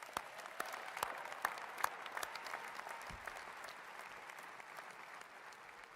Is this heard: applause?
yes